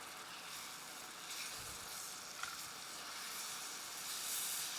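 Bananas sizzle steadily in a pan of melted butter and brown sugar sauce for Bananas Foster, a continuous bright hiss with a faint stir or scrape partway through.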